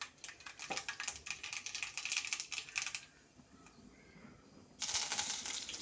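Mustard seeds in hot oil for a prawn curry crackle and pop in dense, rapid bursts. The popping eases briefly, then flares up again, close and fairly loud.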